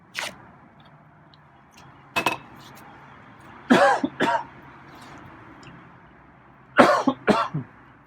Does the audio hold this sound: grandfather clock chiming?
no